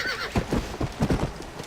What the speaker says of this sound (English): That is one of the 4 horses of the apocalypse